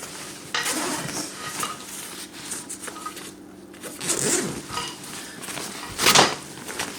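Two zippers on the main compartment of a LqArmy duffle bag are pulled open, giving several quick rasping zips between quieter rustling and handling of the fabric, close and alone without talk.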